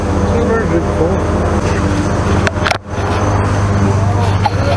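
A turbocharged Chevrolet Suburban engine runs loud and close, with a brief dip and gap partway through before it roars back, and a voice can be heard over it.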